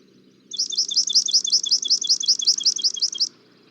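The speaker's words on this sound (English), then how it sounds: "This is another species that has a trill for its song" A recorded sparrow or warbler sings a trilling song: a rapid, even series of about fifteen high, sharp notes lasting close to three seconds over a faint low hum, with no talking.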